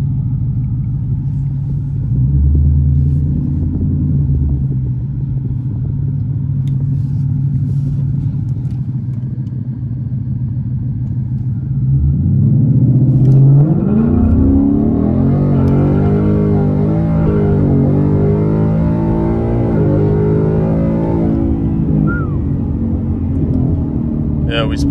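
Tuned Ford Mustang GT making a hard dig and pull: a loud, steady engine rumble builds midway into a rising, full-throttle roar with climbing gear sweeps, close and continuous.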